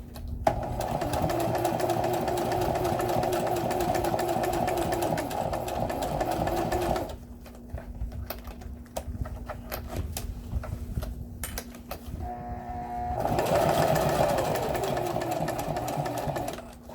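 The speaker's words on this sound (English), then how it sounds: "That Teflon foot is helping to glide the fabric underneath it. I'm gonna go slowly" A sewing machine stitches faux leather with a Teflon presser foot, humming steadily and close, slowing to a pause midway before running again.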